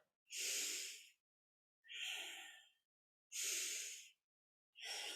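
Four strong, breathy rushes of air during a kundalini yoga morning practice, inhaling and exhaling in turn while the arms are raised. Each breath lasts under a second, is close and loud, and is separated by silence.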